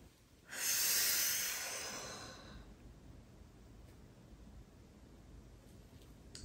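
One long audible exhale through the mouth during a posture exercise, loud at first and then fading into quiet room noise.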